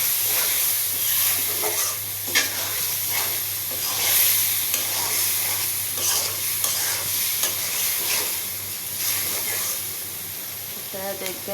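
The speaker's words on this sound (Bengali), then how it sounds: "এটা ভালোভাবে কষিয়ে নেব দেখবেন" Curry stir-fried in a pan, a continuous loud sizzle with steady scraping and stirring strokes, close up, while a voice talks quietly beneath the frying.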